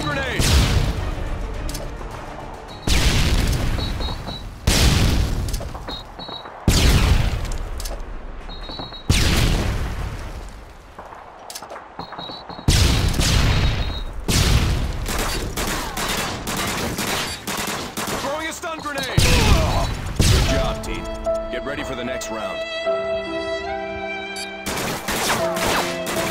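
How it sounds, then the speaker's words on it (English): Repeated stun grenade blasts and gunfire bursts in the 2009 video game Modern Warfare 2, loud sharp bangs every couple of seconds followed by ringing tones and a denser firefight. "Throwing a stun grenade!"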